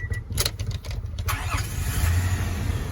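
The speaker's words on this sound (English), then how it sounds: "So I might turn on my car engine as well" Car engine starting up beside a 2005 Kawasaki Vulcan VN800 motorbike, a short cranking burst that catches and settles into a steady low idle rumble, close by, with no talk.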